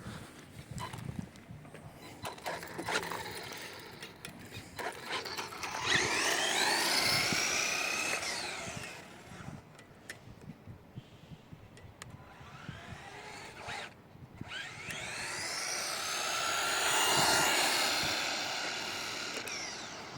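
Absima AB 3.4 RC car on a 2S LiPo making passes, its high electric whine rising and falling in two long sweeps as it approaches and moves away, loud when near, with no talk.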